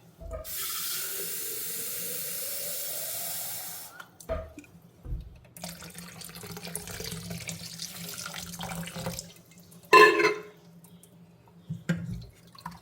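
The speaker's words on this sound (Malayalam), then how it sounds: "അതുപോലെ വെള്ളം ഒഴിച്ച് കൊടുക്കണം." Water poured from a tap to rinse ada rice flakes for payasam, a strong steady stream for a few seconds, then intermittent splashes, sloshing and a brief gush as the flakes are washed.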